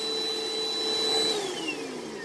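A vacuum cleaner powered through a Kodiak generator and AGM battery setup drones steadily with a high motor whine, its pitch sliding down partway through as the load shifts.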